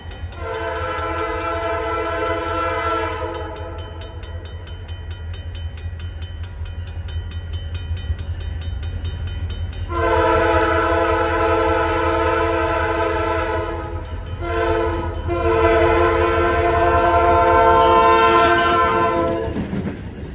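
A former Southern Railway GP40X locomotive passes loudly with its original Southern Railway P5A horn, sounding one long chord blast, then a second long blast and a short one, over steady rumbling engine and rail noise.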